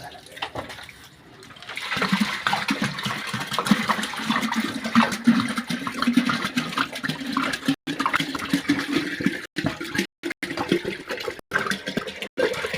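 Water pours steadily from a vessel over a Kala Bhairava idol during a full-moon abhishekam ritual, a continuous splashing rush that swells after a quiet start and keeps flowing with a few brief breaks.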